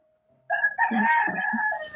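A rooster crows once, loud and close, a single drawn-out cock-a-doodle-doo that rises and then trails off, heard alone with no talking.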